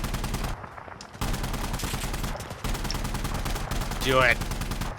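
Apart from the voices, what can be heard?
gunfire in the video game Insurgency Sandstorm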